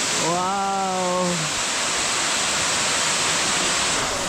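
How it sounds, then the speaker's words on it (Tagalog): A rushing waterfall swollen by rain roars as a loud, dense, continuous wash of water close by, with a brief tonal sound near the start. "medyo malakas ngayon yung mga ragasan ng tubig"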